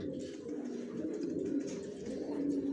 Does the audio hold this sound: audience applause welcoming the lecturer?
no